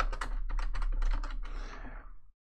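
Group policy name being typed on a computer keyboard: a quick, close run of key clicks in uneven bursts for about two seconds, then silence.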